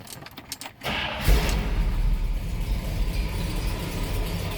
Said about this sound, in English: See how easily the car starts,